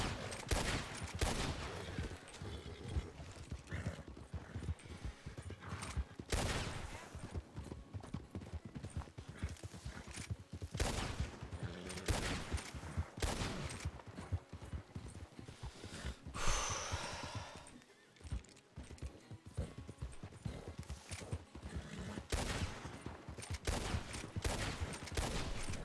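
Rapid bursts of gunfire ring out in Red Dead Redemption 2 roleplay on RedM, repeated loud shots scattered across the clip alongside horse hooves clip-clopping and a brief neigh.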